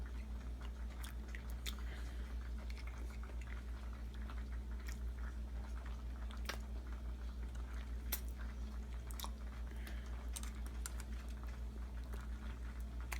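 Close, soft chewing of freshly cooked pasta during a taste test, with irregular small moist clicks and bites over a steady low hum in a kitchen.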